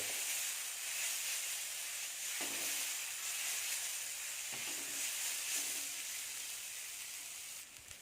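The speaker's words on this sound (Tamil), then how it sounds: "இந்த தேங்காயில் உள்ள ஈரம் போகிற வரைக்கும் லைட்டாக வறுத்து." Grated coconut sautés in a pan, giving a steady, fairly faint sizzle and hiss with a few soft scrapes of stirring, no voices.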